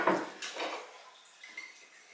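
A spoon stirs a drink in a glass, clinking and scraping against the sides in a few quick strokes that taper off into quieter taps, close and fairly faint, with no talking.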